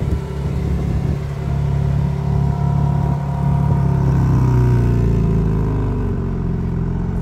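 A 2025 BMW M4 Competition cold-starts and settles into a loud, steady, rumbling idle with a slight rise and fall in revs, heard close with no talking.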